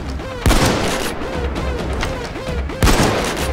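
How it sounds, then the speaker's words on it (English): Heavy gunfire in Payday 2 aimed at a police shield, dense rapid shots with two loud booming blasts, loud and close throughout. "I can actually shoot out this shield."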